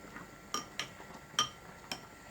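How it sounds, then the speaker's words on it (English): A spoon stirring Engevita yeast flakes into a tofu soup, giving four or five soft, bright clinks against the bowl at irregular intervals in an otherwise quiet room. "Just give it a good stir like that."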